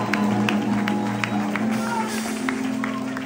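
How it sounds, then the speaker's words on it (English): A church congregation at praise and worship claps in a steady rhythm under music and a voice, the claps landing as regular, moderately loud beats within a busy, reverberant hall. "Clap those hands for Jesus."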